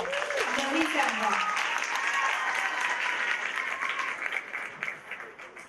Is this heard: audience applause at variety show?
yes